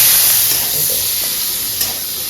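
Onions frying in a pan until reddish, a loud, close, steady hiss and sizzle of hot oil with a faint clink of stirring near the end, no voices.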